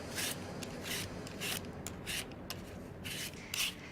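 Gala apples being peeled for apple crisp, giving a series of soft, close scraping rasps in a steady rhythm, each stroke a short burst with brief pauses between.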